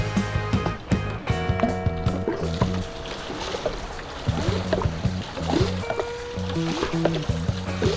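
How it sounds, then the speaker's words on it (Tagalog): Water is bailed out of a small wooden fishing boat on the sea, with repeated near splashes and sloshing scoops in a steady rhythm over a low, pulsing background hum. "So yun, tayo maglilimas."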